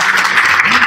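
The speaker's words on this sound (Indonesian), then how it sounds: "biasa kita tepuk tangan dulu teman-teman" Crowd applause, a dense steady clatter of many hands clapping throughout the short moment, fairly loud and continuous.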